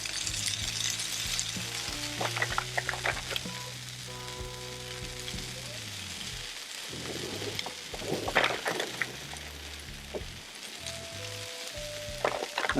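Hashbrowns fry on a Blackstone flat-top griddle with a continuous loud sizzle, and spatula scrapes and taps come through as they are shaped. Background music plays under it.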